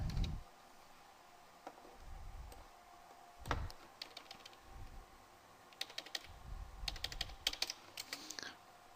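Keys clatter on a computer keyboard as a CNPJ number is entered, arriving in short bursts of quick, fairly quiet taps separated by pauses, with a faster run of clicks near the end.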